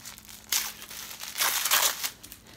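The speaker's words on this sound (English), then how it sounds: "These are the trickiest to open, these little crackers, so" A small advent calendar cracker being unwrapped by hand, giving a few close crinkling, crushing bursts of paper or foil with short quiet gaps between them.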